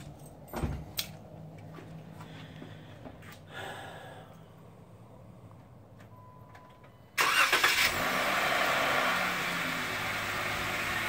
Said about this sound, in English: Turn on the car so you can see it with the halos on, Stevie.